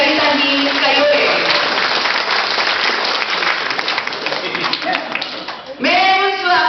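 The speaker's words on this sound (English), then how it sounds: "A round of applause." An audience at an Ilocano-Irish Association coronation night gives a round of applause, dense steady clapping that fills the room and then fades, with a voice and a brief burst of music cutting in near the end.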